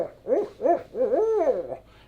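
A Harrison owl hooter call, a handheld device that imitates an owl, blown in a rhythmic series of three quick hoots followed by a longer warbling hoot, loud and close with no talk.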